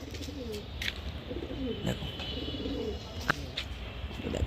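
Madras pigeons in a loft coo in low, repeated throaty phrases close by, with a few sharp chirps and rustles and some faint background talk.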